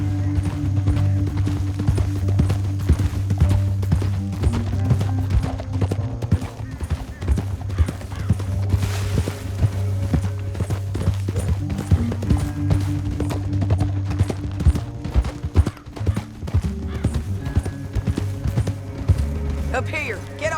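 Horse hooves clatter at a gallop in Red Dead Redemption 2, a steady rapid clip-clop running under music and game effects for the full stretch, with a brief whinny and distant gunfire mixed in.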